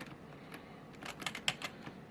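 Quiet, quick keystrokes tap on an e-Machine computer keyboard during gaming, a short irregular burst of clicks over a faint background hum.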